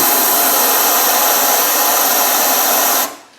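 Workshop airline blasting compressed air into an engine block during a 300Tdi timing belt job; loud, steady hiss up close that cuts off abruptly near the end.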